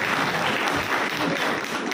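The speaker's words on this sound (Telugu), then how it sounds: "అందరూ చప్పట్లు కట్టి వారికి కంగ్రాచులేషన్ చెప్తారు." Steady crowd applause at a felicitation ceremony honouring MP Dr Kadiyam Kavya, a dense continuous clapping wash filling the whole stretch at moderate loudness with no voices standing out.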